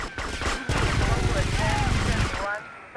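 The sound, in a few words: machine gun fire in video game GTA Vice City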